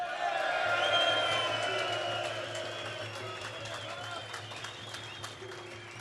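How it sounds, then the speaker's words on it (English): A crowd at an outdoor union rally for worker Bob Carnegie cheers, claps and whoops, loudest at the start and gradually thinning, with voices calling out and a steady low hum beneath. "let's hear a big cheer for Bob Carnegie"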